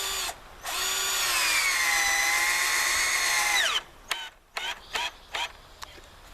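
A power drill driving screws into wooden boards of a chicken tractor, one long whining run that winds down, then several short bursts and clicks.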